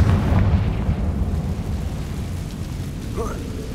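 A Confringo blasting spell explodes in a Harry Potter video game, a loud broad boom that rumbles and decays over several seconds, with a faint voice rising near the end.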